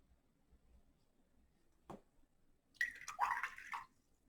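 A paintbrush is swished through a pot of water in a short splashy burst lasting about a second, preceded by a faint knock, in an otherwise quiet room.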